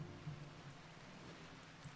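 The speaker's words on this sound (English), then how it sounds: "It's rainy season, which is great for boomalope hunting." Steady rain falling in the video game RimWorld during its rainy season, a soft continuous hiss with low rumbling texture and no voices over it.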